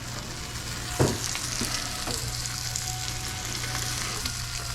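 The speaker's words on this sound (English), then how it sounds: "the biggest thing with searing is you got to be patient." A tomahawk steak sears in a hot pan with a loud, steady, close sizzle throughout, broken by one brief thump near the start.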